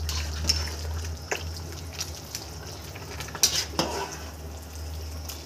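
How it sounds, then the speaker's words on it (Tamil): A spoon scraping and clinking against a pot while stirring rice for chicken biryani, with soft bubbling and sizzling underneath and occasional louder knocks. "இப்போ ஒரு முறை நல்லா இப்படி கலந்து விட்டுக்கோங்க"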